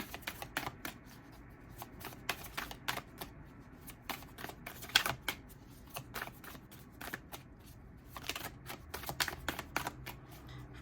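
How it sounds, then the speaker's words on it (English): Tarot cards shuffled and pulled from a deck, a string of quick close riffles and flicking snaps with short pauses between bursts. "I'm going to pull a card of clarifier for the lovers."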